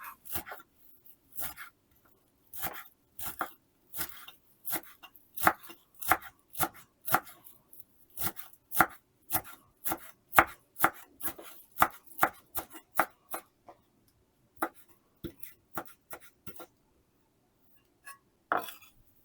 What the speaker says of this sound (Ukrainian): Останній інгредієнт, який я буду нарізати, це петрушка.